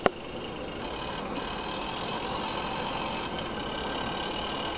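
Knockoff John Deere tractor idling in Angel Pine in GTA San Andreas, a steady low engine drone that holds at an even level throughout, with a brief knock at the very start.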